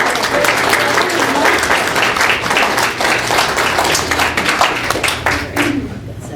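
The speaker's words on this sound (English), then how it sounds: "give everybody a big clap" Loud, steady applause from a crowd at a high school class reunion program, many hands clapping continuously with some voices beneath.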